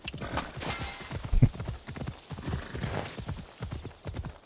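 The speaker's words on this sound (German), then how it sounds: "Waren das Pferdesounds oder hast du komisch gelacht?" Horse hooves clip-clop in a quick, steady rhythm in Assassin's Creed Odyssey, close and fairly loud, with a brief whinny-like burst partway through and no speech.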